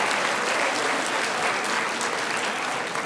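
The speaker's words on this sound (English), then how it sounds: "Give them a round of applause for being stunningly brilliant" A graduation ceremony audience claps steadily, a dense, even wash of applause that keeps up through the whole stretch with no voices above it.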